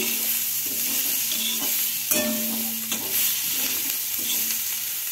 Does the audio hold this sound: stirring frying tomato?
yes